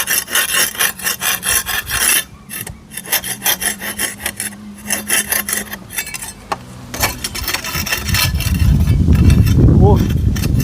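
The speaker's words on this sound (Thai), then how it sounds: "โอ้ต้องขูดปูนออกได้นี่เพราะว่าปูนมันติดไม้อย่างเงี้ย" Mortar being scraped off wood with a hand tool, close and loud rapid rasping strokes in bursts, with a low rumbling hum building near the end.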